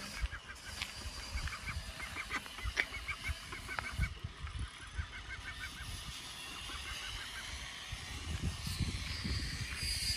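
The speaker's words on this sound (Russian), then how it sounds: "Смотрите, уточки идут." Ducks in a park in Luchistoe, Crimea, give repeated nasal honking quacks in short bursts, close and fairly quiet, among footsteps and outdoor rustle.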